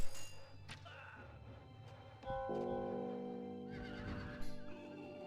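A horse neighs loudly in the strategy video game Rise of Nations, a drawn-out whinny amid battle clatter, thumps and clip-clop hoofbeats, with no voice.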